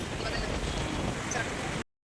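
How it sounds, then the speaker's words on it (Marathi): Steady wind gusting across a beach, a loud broadband roar buffeting the microphone close up, running continuously for under two seconds before cutting off abruptly. "वारा पण सुटला बरोबर"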